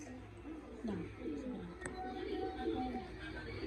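Pigeons coo nearby in soft, repeated rolling calls over a steady background hum, with a person's voice mixed in.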